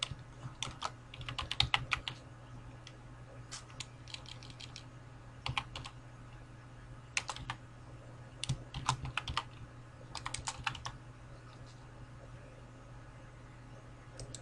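Keys clatter on a computer keyboard in short clustered bursts as a login ID and password are typed, soft and close over a steady low hum, with no speech.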